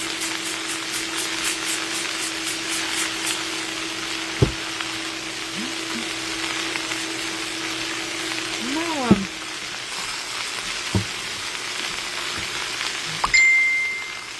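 Potatoes fry in a pan over high heat, giving a constant close sizzle. A few sharp clinks and taps from a utensil hit the pan, and a short ding sounds near the end.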